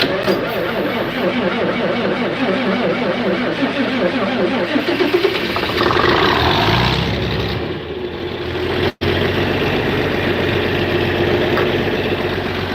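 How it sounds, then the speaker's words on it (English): A 1967 John Deere 4020 tractor engine runs at a steady, loud, close diesel idle, its rhythmic chug shifting slightly partway through, with a brief dropout near the end. "This is my grandpa's 1967 40-20 John Deere."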